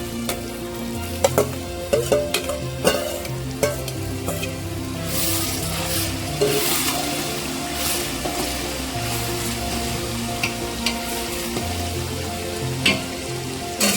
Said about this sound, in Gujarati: હવે એમાં ટમેટા નાખશું, કિલો જેવા ટમેટા લીધા છે।